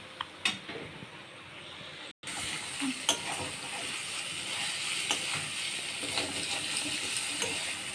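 Food frying in a pan while being stirred, a steady broadband sizzle with scattered spatula scrapes and clicks, a brief gap near the start, no talking.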